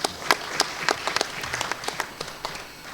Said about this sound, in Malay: Satu tepukan pada mereka.